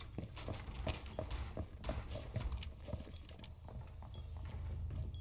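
Footsteps on cobblestone in Rainbow Six Siege sound as a quick run of hard, clopping impacts at close range over a low game ambience, settling into a steadier hum toward the end.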